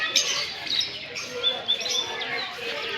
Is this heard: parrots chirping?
yes